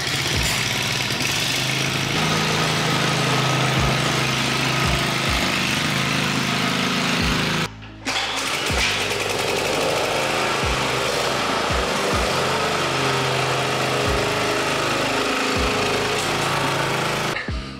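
Toro and Honda commercial push mowers running loud and close, a steady buzzing engine drone broken by a brief cutout near the middle before resuming.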